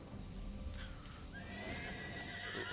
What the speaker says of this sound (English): So we will be using our horse.